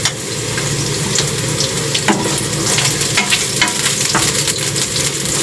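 Chopped garlic sizzling and frying in a hot pan, a continuous loud crackle with occasional stirring scrapes and clinks, no talking.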